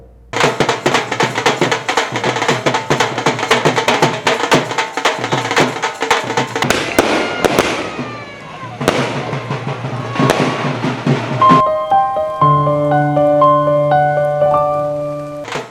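Dense, rapid crackling of fireworks going off in continuous bursts at a political welcome rally in Saraswa, India, loud and close, giving way near the end to a sustained musical tone.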